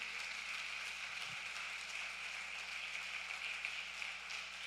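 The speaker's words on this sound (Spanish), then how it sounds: "Denle un fuerte aplauso al Señor Jesucristo." A church congregation claps for Jesus Christ in a dense, steady wash of applause. It stays faint and distant for the whole stretch, with no voices over it.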